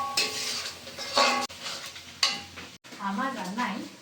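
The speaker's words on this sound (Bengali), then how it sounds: "এখন দিয়ে দিব আদা রসুন ঝাল।" Ginger, garlic and chili go into a hot pan with mustard, giving bursts of sizzling and clattering stirring against the pan, with someone speaking briefly near the end.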